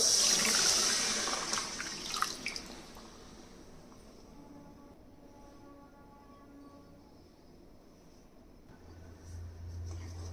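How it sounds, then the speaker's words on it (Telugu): Soaked tamarind water is poured into a pan of fried eggs for spicy egg pulusu, a brief watery splash and trickle at the start that fades into quiet kitchen background. "ఇప్పుడు పులుసు మనం ఏదైతే నానబెట్టేసుకున్నామో అది పోసేద్దాం"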